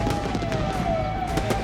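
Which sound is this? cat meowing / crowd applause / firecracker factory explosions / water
firecracker factory explosions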